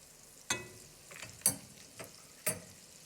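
Butter drops into hot oil in a pot on the stove while making popcorn. Faint, sparse pops and crackles sound at irregular intervals over a quiet background.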